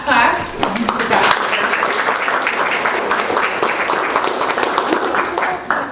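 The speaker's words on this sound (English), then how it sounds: "please give a warm clap clap" Audience applause welcoming a keynote speaker, steady dense clapping from a crowd with voices mixed in, holding throughout before easing at the end.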